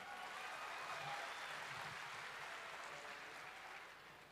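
Applause from a crowd gathered for a speech by the governor of West Java, a steady dense patter of clapping that runs throughout and fades slightly at the end.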